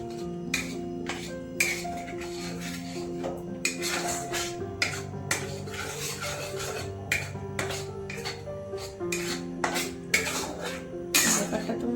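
Food being stirred and fried in a pan, a run of repeated scraping and clinking utensil strokes against the cookware at close range, with a low tonal hum running steadily beneath.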